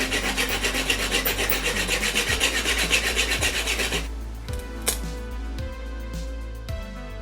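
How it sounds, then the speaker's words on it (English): A file rasps along the edges of a 1997-era Voodoo graphics card in quick, regular back-and-forth strokes for about four seconds, then fades to quieter scattered scraping and taps. "After filing the edges"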